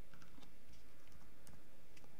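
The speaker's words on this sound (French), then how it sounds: "je tape FI photo, je l'ouvre" Rapid typing on a computer keyboard, a quick irregular run of light clicks and taps close by, with no voices.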